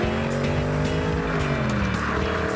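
Audi RS4 with a 4.2-liter V8 revving hard, a loud continuous roar with rising and falling engine tones and sharp tire squeal layered over it.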